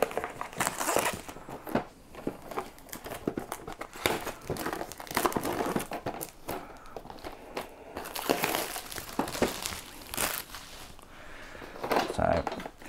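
Cardboard and plastic packaging of a Lumineth Realm-Lords endless spells miniature kit box is torn open and crumpled, with repeated close crinkling and ripping bursts over several seconds.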